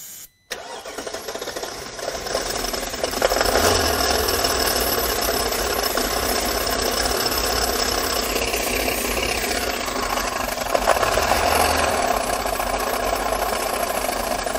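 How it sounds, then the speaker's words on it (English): A Mercedes CL55 AMG engine, left sitting for seven years, cranks briefly, catches, and settles into a loud, steady idle that runs on close by without stopping. "I heard the engine run. It doesn't knock."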